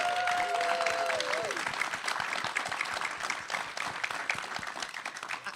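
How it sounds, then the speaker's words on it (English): A live event audience applauds a panel with a steady patter of many hands, mid-distance and continuous, while a brief tonal whistle or feedback sweep sounds at the start and faint voices murmur underneath. "So could you give them a round of applause,"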